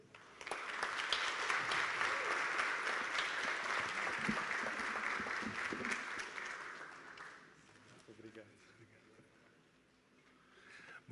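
A conference audience applauds loudly for several seconds, the clapping fading out until only scattered claps and room murmur remain.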